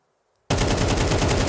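After a moment of near silence, a rapid burst of automatic gunfire erupts loud and close as a player sprays bullets through a wall in Counter-Strike at IEM Katowice 2025, a dense unbroken rattle of shots.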